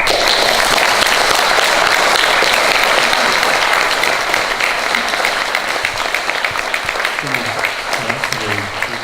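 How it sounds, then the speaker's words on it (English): Audience applause fills a municipal candidates' debate for Ward 4 in Burlington, a steady dense wash of clapping throughout that thins slightly toward the end, where a few voices begin to murmur underneath. "all candidates deserve our round of applause tonight"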